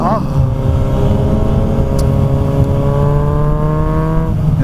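A car with its exhaust dB killer removed drones loudly and steadily while driving, a deep continuous engine roar with a shifting pitch partway through.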